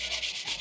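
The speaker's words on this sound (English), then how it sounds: "But a little hand sanding don't hurt nobody." A plastic pillar cover on a Cadillac Escalade is sanded by hand, giving rapid, rhythmic back-and-forth scratchy rubbing strokes, close and steady.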